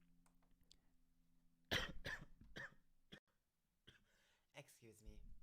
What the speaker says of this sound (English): The coughs start to come out when I'm recording.